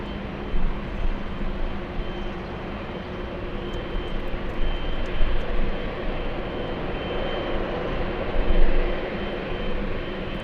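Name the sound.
Air France Boeing 777 landing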